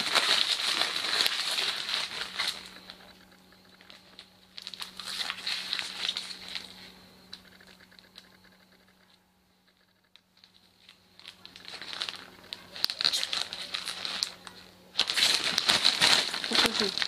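Plastic bags for oyster mushroom blocks crinkle and rustle in long bursts while being handled, close and loud, with quieter pauses between.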